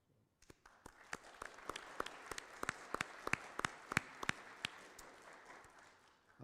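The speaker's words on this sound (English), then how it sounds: "I would like to call for a round of applause" A crowd at a conference panel in a marble hall applauds steadily, many hands clapping together with sharper individual claps standing out, building slightly and then fading at the end.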